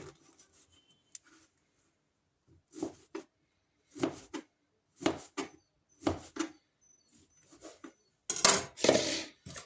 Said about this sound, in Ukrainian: Потім ці пластини я розрізаю на кубики.